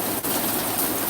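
Rain falls steadily on a garden, a continuous close hiss of drops with no other sounds standing out.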